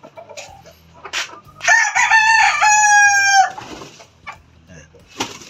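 A pure Eagle Gray gamefowl rooster crows once, a loud, close, drawn-out call of about two seconds, with faint clucks and yard noise before and after.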